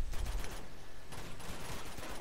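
Rapid gunfire bursts in the video game Uncharted, a dense crackle of overlapping shots loud throughout with a brief pause near the middle.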